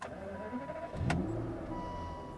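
A 2006 Aston Martin DB9 Volante engine cranks and fires up with a sudden burst, then settles into a steady idle, close and moderately loud.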